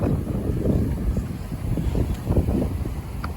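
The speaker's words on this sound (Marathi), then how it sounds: "हा वारा तर एकदम सुसाट आहे" Strong wind buffets the microphone on a beach beside rough sea, a loud, low rumbling roar with uneven gusts and no voices.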